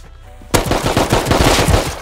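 A rapid burst of gunfire cracks out in the survival game Rust, loud close shots fired in a quick automatic string after a moment of quiet.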